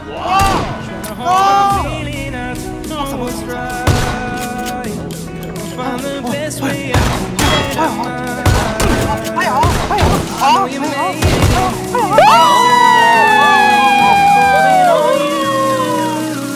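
Repeated loud bursts of gunfire in PUBG (Battlegrounds) on the Miramar map, some in quick clusters, mixed with other game sounds and occasional talking throughout.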